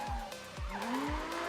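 A 2005 BMW 330Ci E46 drift car with a 3.0 engine making 200 kW skids at a semi-pro drift championship in Siauliai, Lithuania, with engine revs rising and falling in quick bursts and tire screech, heard from a middle distance.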